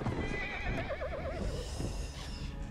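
A horse in a video game whinnies with a wavering neigh over galloping hoofbeats and busy game noise, short and moderately loud.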